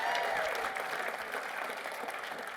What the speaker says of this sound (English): Give a round of applause for them for rocking it.